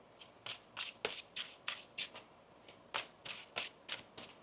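A deck of tarot cards being shuffled by hand, heard as about a dozen quick riffling bursts in an irregular rhythm. The sound is close and fairly soft, with no voices.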